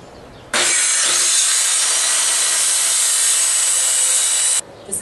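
A power saw cuts through wood around a dryer vent opening, a loud, steady, continuous rasping buzz lasting about four seconds, starting and stopping abruptly.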